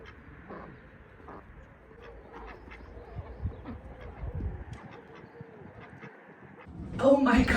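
Ducks quack and chatter nearby outdoors in a run of short calls, with a voice talking over them and a louder burst of noise near the end.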